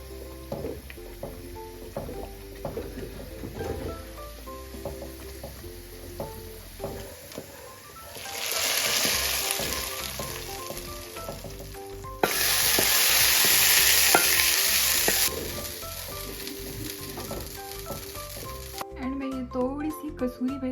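A hot tempering of oil and whole red chilies for wheat dalia crackles with stirring, then bursts into two loud, sustained hissing sizzles as it hits the grain before settling back to soft stirring.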